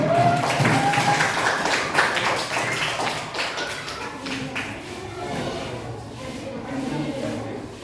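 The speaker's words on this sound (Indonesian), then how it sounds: "kita kasih tepuk tangan dulu untuk kelompok 4" A classroom claps for a student group, a dense burst of hand claps that starts loud and gradually thins out, with voices talking alongside.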